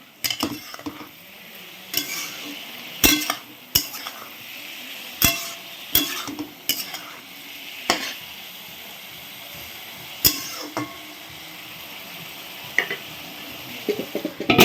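Puffed rice being mixed by hand with chanachur, onion, green chili and coriander in a bowl, a rustling crunch punctuated by repeated sharp clinks at an uneven pace, close up.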